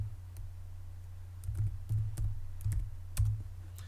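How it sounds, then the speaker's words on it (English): Keys tapped on a computer keyboard while entering a customer PO number in order-entry software: a short run of soft, irregular clicks, close and fairly quiet, with no talk. "I'll type in the customer's PO number."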